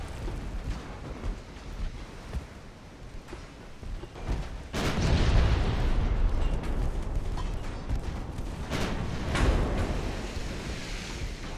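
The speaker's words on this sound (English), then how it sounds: "Oklahoma's about to fire her guns." Battleship Oklahoma fires her main guns in the naval combat game Ultimate Admiral Dreadnoughts, a deep booming salvo rumbling over a steady background of sea and battle noise, with a second heavy report later.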